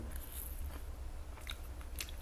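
Biting into and chewing a waffle covered in 24k gold leaf, giving close, crisp crunching bursts over a steady low rumble with no talking.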